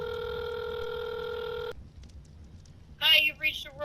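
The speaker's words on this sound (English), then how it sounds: "It rang 3 times" A telephone rings on the other end of a line, one long steady electronic ring tone that then stops, followed by a voicemail greeting voice.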